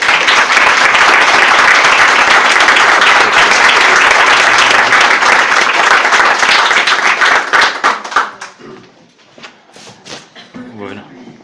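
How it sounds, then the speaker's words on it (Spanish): A live audience claps loudly and steadily to welcome the speaker Aldo Linares, a dense, close wash of applause lasting about eight seconds before thinning into scattered claps and shuffling. "vamos a recibirle pues con un aplauso"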